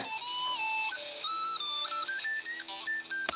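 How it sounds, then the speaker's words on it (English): A high, bright tin whistle plays a quick, stepping melody of short, clear notes, close and alone with no voices. "A tin whistle?"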